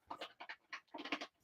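A dog panting in quick rhythmic bursts of breathy huffs, close and fairly faint, running in short rapid runs with brief pauses between them.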